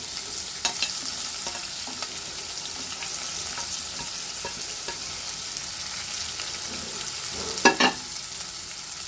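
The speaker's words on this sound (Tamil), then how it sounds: "வெங்காயம் இந்த பச்சை மிளகா இஞ்சி எல்லாத்தையும் ஒன்றா போட்டு எல்லாத்தையும் ஒன்றா போட்டுக்கலாம்" Chopped onion, green chili and ginger fry together in a pan for wheat rava upma, giving a steady gentle sizzle with occasional soft stirring scrapes and one louder clatter near the end.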